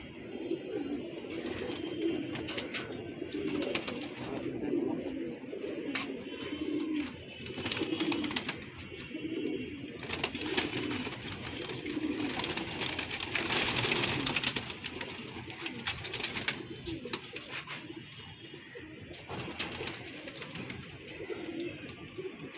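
Pigeons in a new loft cooing continuously, soft overlapping low throaty coos close by, with rustling and occasional wing flutters throughout.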